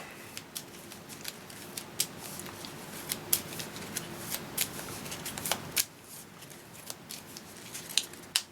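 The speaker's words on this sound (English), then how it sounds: "I'm shuffling the wrong deck." Stiff game cards from a Marvel Champions deck are riffled and shuffled on a table, giving quick bursts of crisp flicking and snapping with short pauses between, close and fairly quiet.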